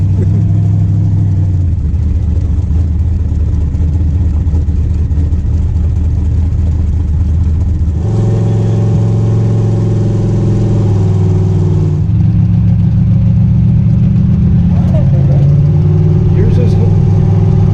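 A twin-turbo, tunnel-ram Nova engine runs on a street dyno, a loud, steady heavy drone that steps up in pitch and intensity partway through, with voices talking over it.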